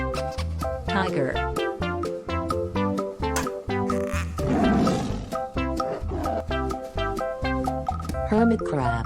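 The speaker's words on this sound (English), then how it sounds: "Tiger." A tiger roars in a short, rough burst over continuous background music, the growl standing out briefly midway before the music carries on.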